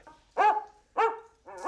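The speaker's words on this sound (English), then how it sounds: "That's a dog." A dog gives three distinct barks, spaced evenly about half a second apart, each clear and close in an otherwise quiet setting.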